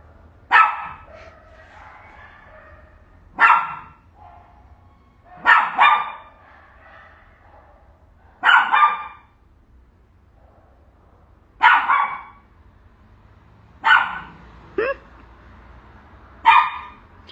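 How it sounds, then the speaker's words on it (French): Dogs bark outside in a series of about eight sharp, spaced barks, some doubled, fairly loud against a low background hum. "c'est juste des chiens qui crient dehors"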